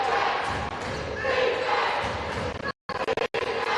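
Crowd noise swells and roars at a high school boys' championship basketball game, loud and continuous, mixed with a commentator's voice and a sharp cut of near-silence before the din resumes.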